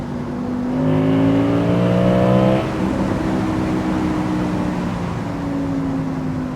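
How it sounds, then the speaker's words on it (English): An Audi R8 V10 Performance Spyder engine revs up with a rising whine, then settles into a throaty, rumbling idle that continues steadily, close by. "Lovely engine."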